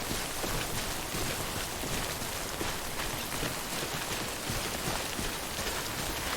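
Rain falls in the video game Death Stranding, a steady, even hiss of downpour that continues alone without pause.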